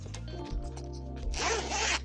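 A zipper slides along the cloth case of Sony WH-1000XM4 headphones, with a short drag, a pause, then a longer, brighter rasping pull near the microphone, over a steady low hum.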